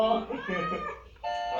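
A cat meows in a drawn-out, wavering call, followed by a second steadier meow, close and fairly loud over a background of talk.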